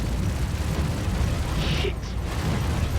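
Weapon fire hits the shields of a Vanguard Warden heavy fighter in Star Citizen, heard as a dense, loud, continuous rumbling barrage with short crackling bursts over the top.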